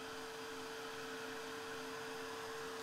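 A heat tool or dryer drying a craft project gives a steady, even whir with a constant hum. It runs unbroken at moderate level for the whole stretch, with no talking.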